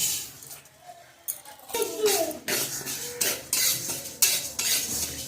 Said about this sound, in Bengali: মুগ ডাল ভাজা হচ্ছে